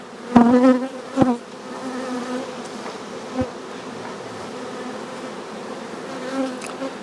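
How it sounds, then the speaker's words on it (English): Close, droning buzz of many honey bees humming continuously in a packed cell builder hive box, with a few louder bumps and knocks near the start. "It's already packed with bees."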